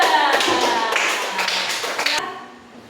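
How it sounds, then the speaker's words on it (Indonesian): A school class claps for a student group, a dense burst of hand claps close by that lasts about two seconds and then stops abruptly, with faint voices underneath. "Tepuk tangan buat kelompok 2."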